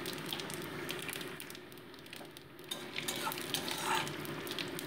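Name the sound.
spices sizzling in hot mustard oil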